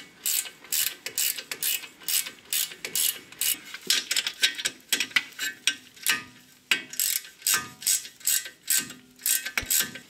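A ratchet tightens the front brake caliper carrier bolts on a VW Golf 4 Cabriolet, giving rapid bursts of close, loud clicking strokes in a steady back-and-forth rhythm throughout.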